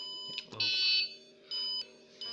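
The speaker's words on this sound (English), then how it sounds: "you interfere, you trigger an alarm" A factory safety laser system sounds its alarm in short electronic bursts: a sustained high tone, a pause, then repeated shorter beeps, loud and close with a few clicks between.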